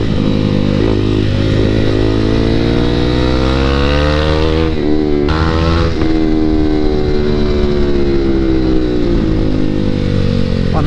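KTM motorcycles, including an RC 200, race and overtake one another, a loud sustained engine drone with shifting revs and rising and falling pitch, heard close from a riding bike.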